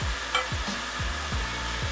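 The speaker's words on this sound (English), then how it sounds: "you're just going to give them a quick stir around the pot" Onions frying at medium to medium-high heat in a pot are stirred around in steady scraping sweeps, with a constant sizzle underneath throughout.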